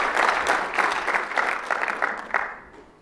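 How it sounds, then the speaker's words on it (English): Applause from a hacker conference audience, a steady wash of clapping for about two and a half seconds before it tapers off. "Give him a round of applause"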